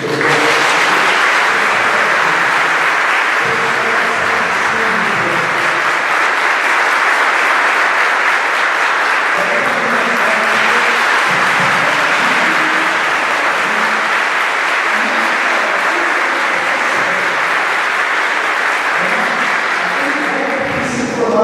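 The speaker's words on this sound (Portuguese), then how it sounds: "Vamos aplaudir isso." Loud, sustained applause from a church audience fills the whole stretch as a dense wash of clapping, while a voice sounds faintly beneath it at times.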